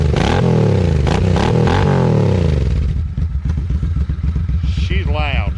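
A loud chrome motorcycle with a new battery revs hard and close in repeated rising bursts, then drops to a lumpy, pulsing idle; a voice can be heard over the engine near the end.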